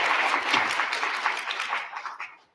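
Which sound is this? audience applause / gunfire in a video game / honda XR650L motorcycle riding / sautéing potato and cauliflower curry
audience applause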